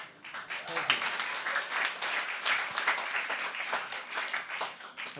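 A comedy audience at an Edinburgh Fringe Festival stand-up show applauds steadily, dense clapping filling the room for several seconds with small swells and dips, no voices on top.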